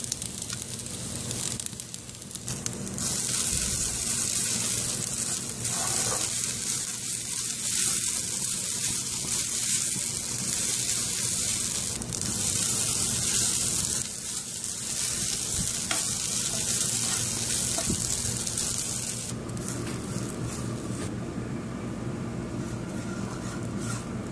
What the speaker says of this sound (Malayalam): ചിക്കൻ വേവുന്ന സമയം കൊണ്ട് നമുക്ക് മറ്റൊരടുപ്പിൽ തേങ്ങ വറുത്തെടുക്കാം